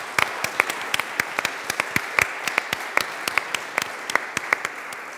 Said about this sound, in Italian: Che a cui vogliamo dedicare un applauso